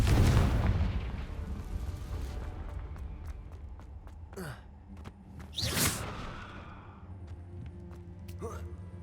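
In Hogwarts Legacy, a Confringo blasting spell bursts with a loud, deep boom at the start that rumbles away, followed by a few sharper whooshing bursts and pops.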